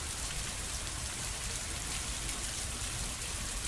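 Steady rain in the video game Moral Retrograde, a dense even hiss of falling drops with no talk, constant and close throughout.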